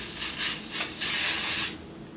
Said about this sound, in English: And then I like to just spray it just a little bit.